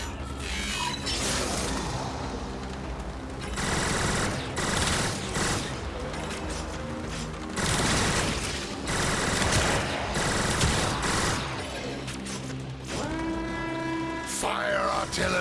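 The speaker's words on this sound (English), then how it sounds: "is dodging the ship's artillery weapons" Heavy artillery from a warship in the Warframe video game fires in loud, dense bursts like a fusillade, mixed with rumbling mechanical clatter and a steady stream of game effects.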